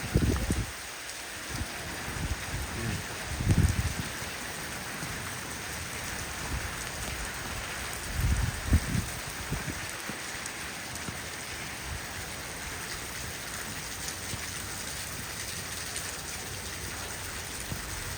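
Heavy monsoon rain pours down during a storm in Islamabad, a steady dense hiss of drops striking surfaces throughout, with a few louder low rumbling gusts rising briefly over the downpour.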